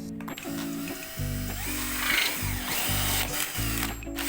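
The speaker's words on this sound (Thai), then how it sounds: "มาเจาะกันง่าย ๆ ก่อน อันนี้พลาสติกนะครับ" A power drill with a multipurpose bit whirs steadily as it bores into plastic, the motor pitch dipping under load and rising again in a few short surges, close and loud.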